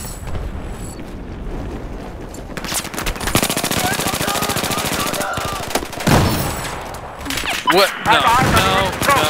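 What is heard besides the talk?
gunfire in the video game Battlefield 4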